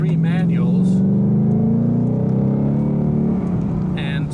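A manual 2018 Ford Mustang accelerates, its natural exhaust note rising loudly and steadily from inside the car, with a person talking briefly over the start and end.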